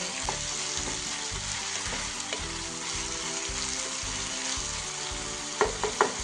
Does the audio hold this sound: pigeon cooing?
no